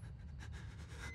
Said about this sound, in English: What is that breathing?